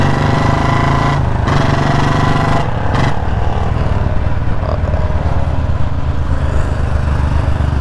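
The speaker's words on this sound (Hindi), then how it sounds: "और बैक फायरिंग आ रही है, यानी कि इसका पूरा एग्जॉस्ट अच्छे से टाइट नहीं हुआ है।" Royal Enfield Bullet Standard 350 motorcycle with an exhaust that is not fully tightened, running loudly up close with a thumping, uneven engine note and a few brief dips and pops.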